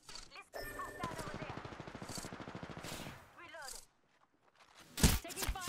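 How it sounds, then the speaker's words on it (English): Rapid bursts of gunfire in Apex Legends rattle steadily for a few seconds, then stop; a loud shot or crash breaks out near the end. "I hear the sounds, the pitter-patter of gunfire."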